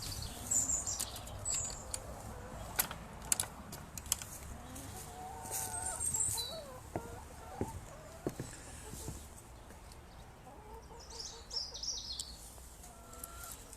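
Hens around a plastic igloo chicken house in a Westcliff garden give soft scattered clucks and brief wing flaps, faint and fairly distant against quiet outdoor background.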